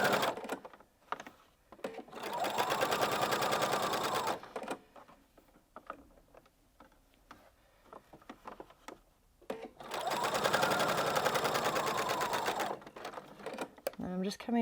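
Sewing machine stitching shirring fabric, running in two long steady bursts with a quiet pause between them where a voice talks over lighter handling noises.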